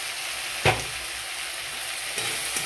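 Ground garlic, chilli and ginger paste sautéing in a pan, a steady close frying hiss with a sharp scrape of stirring early on and a couple of softer knocks later.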